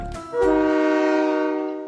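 A train in the Blue Archive video game sounds a loud, clear horn blast that swells quickly and holds for over a second. A brief clunk comes just before it, and there is no talk.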